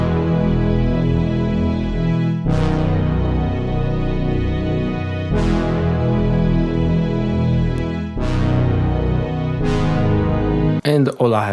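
Layered string and analog synth chords play over a bassline in a sampled beat, with strings voiced an octave above the synth. Full, loud chords change every few seconds, each with a bright swelling attack, and no voices.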